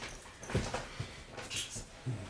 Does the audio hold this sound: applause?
no